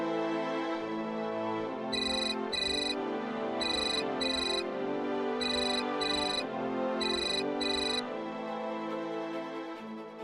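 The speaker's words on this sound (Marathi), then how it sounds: "त्याच्या आधी रानादाला बी फोन लावायला पाहिजे." A phone rings for an incoming call with a repeating electronic ringtone, paired bursts of tones recurring steadily over continuous background music.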